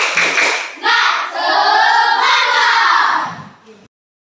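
A classroom of pupils performs a tepuk semangat spirit clap, loud hand claps mixed with young voices shouting together in a chant-like burst that builds and then stops abruptly.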